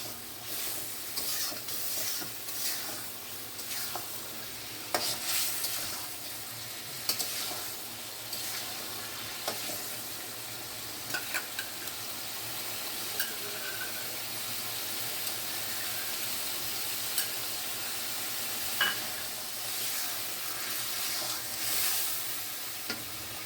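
Snakehead fish curry with cumin and garam masala paste bubbles and sizzles in a pan, a continuous close frying hiss broken by scattered scraping stirs over about twenty seconds, no voices.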